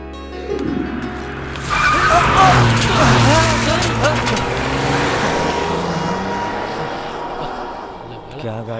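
A car speeding and skidding, with loud tire squeal and a revving engine sweeping through several screeching passes, then fading into a lingering roar.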